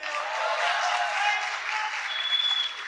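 Steady, dense applause from an audience at a Hindi-Urdu poetry recital, sustained at an even level with no talk over it.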